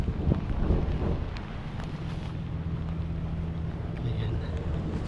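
Strong wind gusting steadily across the microphone outdoors on a stormy day in San Diego, a continuous low rumbling roar filling the whole stretch, with a person talking faintly underneath.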